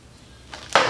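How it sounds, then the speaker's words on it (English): Water from a jug splashing into a gas can during a fuel filter test, a brief hollow pour starting abruptly near the end and continuing loud and close. "I'm going to pour the water into"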